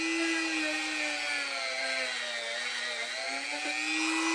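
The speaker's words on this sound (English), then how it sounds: "So I'm going to Dremel the lip out first, and then I'm going to Dremel down that peg." A Dremel rotary tool whines steadily at high speed while grinding down a plastic peg and lip on a bulletproof vest plate carrier, loud and close, its pitch dipping slightly under load without any voices.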